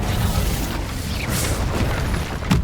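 A fire spell cast in Hogwarts Legacy, a dense, roaring whoosh with low rumbling bursts that holds steady for about two and a half seconds before a sharp flare at the end.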